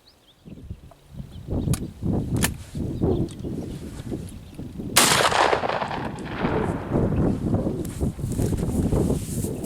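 A single-shot shotgun fires outdoors with a loud, sharp blast, preceded by a few clicks of handling and followed by the rattle of the automatic ejector kicking out the spent shell.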